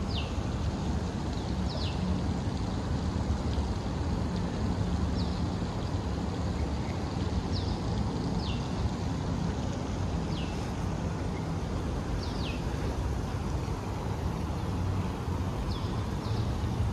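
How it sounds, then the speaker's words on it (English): Steady rushing water fills the scene at an even level on condominium grounds, with faint bird chirps recurring every couple of seconds in the background. "you can hear the sound of water"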